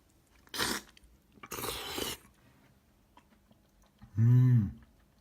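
Someone eating a ripe persimmon scooped with a spoon, giving two short bursts of close, wet chewing and mouth noise, then a brief throat-clearing or vocal sound.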